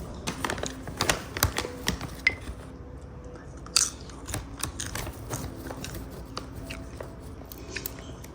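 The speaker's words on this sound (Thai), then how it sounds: "ป๊อปคอร์นเมเจอร์นี่มันอร่อยจริงๆนะ ต้องเป็นรสชีสเท่านั้นด้วย" Cheese-flavored Major popcorn being eaten up close, with irregular crunchy bites and chewing clicks spread across the stretch, fairly quiet and with no talking.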